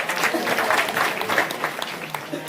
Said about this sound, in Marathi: एकदा त्यांच्याकरता टाळ्या वाजवा सगळं.